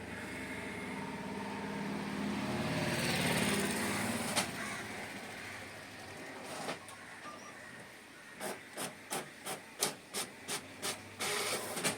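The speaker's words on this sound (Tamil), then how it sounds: "இப்போது பிரிண்ட் வந்து இப்போ பிரிண்ட் ஆகிட்டு வரும்." A printer runs off group member details and a bond document, starting with a steady mechanical whir and hiss, then a closing run of about eight evenly spaced, sharp clicks or feed thumps near the end.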